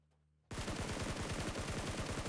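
Gunfire in PUBG Mobile during a Global Championship grand final match: a sudden burst of rapid automatic shots in a fast, even rhythm, loud and continuous after a short quiet lead-in.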